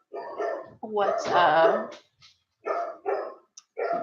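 Dogs bark loudly indoors at an unfamiliar cat, with several close, harsh bursts in quick succession, then shorter separate barks after a pause; a person talks between and over them.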